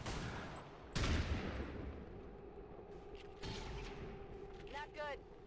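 Soldiers trade gunfire in XCOM 2's Long War of the Chosen mod, with a sharp shot near the one-second mark and later bursts over a steady game background, ending in a brief chirping electronic effect.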